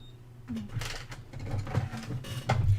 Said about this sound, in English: this is going to be printed on my Canon craft printer